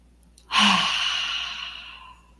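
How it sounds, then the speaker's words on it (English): One deep, audible breath exhaled close to the microphone, a soft airy rush that swells quickly and fades slowly over about two seconds. "Take a deep breath."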